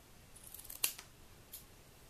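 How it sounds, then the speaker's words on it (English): Scissors snipping elastic for pointe shoes, a single crisp close cut with a sharp click, followed by a fainter second snip in an otherwise quiet room. "Just snip it with your scissors."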